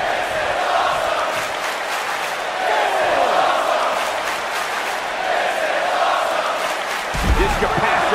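A wrestling video game's arena crowd roars steadily throughout, a dense sustained murmur with swells and a louder burst near the end, heard alone.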